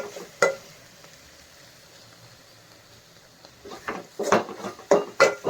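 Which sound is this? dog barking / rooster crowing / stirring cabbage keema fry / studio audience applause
stirring cabbage keema fry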